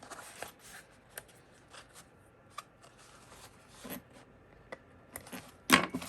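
Scissors trim thread tails on a sewn pocket, giving a few quiet, sparse snips and rustles of fabric with one sharper snip near the end, all close and soft.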